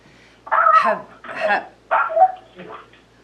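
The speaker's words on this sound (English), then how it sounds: "I think there's a dog." A dog barks and whimpers in a few harmonic bursts during a council meeting, moderately loud, with gaps of quiet between the yelps.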